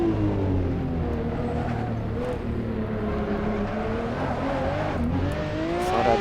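Ferrari 599XX racing at Monza in the Assetto Corsa video game, its engine note loud and continuous, rising and falling through gear changes with steady revving throughout.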